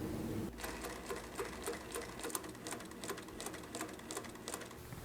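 Consew industrial sewing machine driven by a servo motor runs at a slow, even pace, its needle ticking in a steady rhythmic clatter close up for several seconds without talk.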